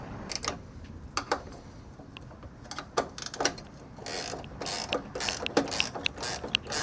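Washers and a nylon locking nut are tightened onto an electrical plug fitting on a Peterbilt 389, making faint ratcheting clicks and short metallic bursts that grow busier and closer toward the end.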